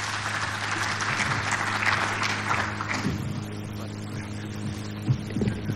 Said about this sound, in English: Let's clap for him as he comes on stage.